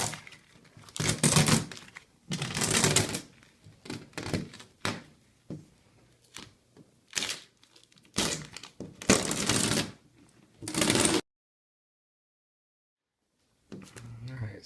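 Peel ply being torn and peeled off a carbon fiber layup in loud crinkling, ripping bursts, close up, with a few short thumps and a pause of silence near the end.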